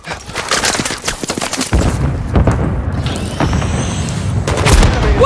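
Gunfire from the Call of Duty MW III video game: rapid, heavy bursts and booming shots stacked over one another, loud and close, with dense overlapping reports and rumbling low end throughout.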